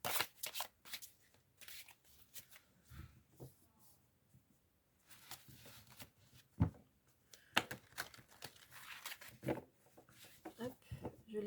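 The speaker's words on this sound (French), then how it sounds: "Donc ce qu'on va faire, c'est que je vais du coup les mélanger." Angel oracle cards are shuffled in soft riffling bursts, close by, with someone speaking French in between the rustles.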